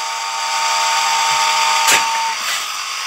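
SCHEER pneumatic-electric dowel drilling machine running in a woodworking shop, a steady loud motor whine with a brief hiss-like burst as the drill lowers, no talk.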